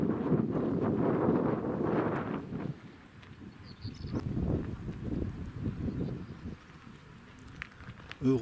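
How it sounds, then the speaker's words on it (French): Gusty wind buffets an open hilltop at Les Baux de Provence, roaring loudly at first then easing into fainter, uneven gusts with rustling, occasional light knocks and no voices. "Heureusement que le vent dissipe un peu la chaleur."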